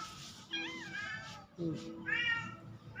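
A stray cat meows several times close by, drawn-out wavering calls spaced across a few seconds, while someone speaks softly and calls to it in between.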